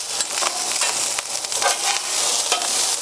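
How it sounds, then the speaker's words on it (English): Rice fries and sizzles in hot oil in a pan while being stirred and broken up for Hawaiian fried rice, a steady close crackle with scraping stir strokes throughout. "we're going to mix it up so that it gets the oil in it"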